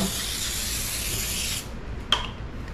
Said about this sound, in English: I recommend you spraying the pan if you are making these